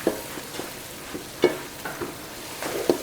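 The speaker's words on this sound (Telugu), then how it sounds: "ఈ అల్లం పేస్ట్ అనేది పచ్చివాసన పోయేదాకా మంచిగా వేపుకుందాం నాన్న." Ginger paste frying in a pan for a spicy village-style fish curry, a soft steady sizzle broken by several light scraping stirs, close and alone without talk.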